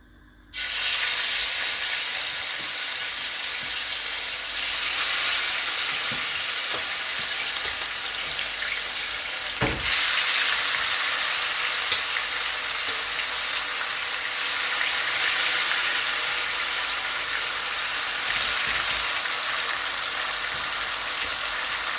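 Steady, loud sizzling of chicken frying in hot oil in a pot, continuous and close, with an occasional faint clink partway through.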